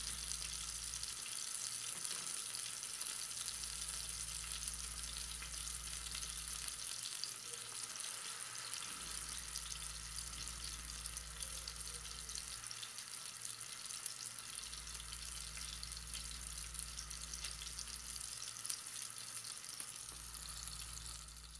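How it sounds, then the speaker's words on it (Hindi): Beef seekh kebabs fry on a flat tawa with a steady, continuous sizzle throughout, fairly faint and unbroken, with a low hum underneath and no voices. "कबाब जो हैं ये हमारे तकरीबन हाफ़ फ्राई हो चुके हैं।"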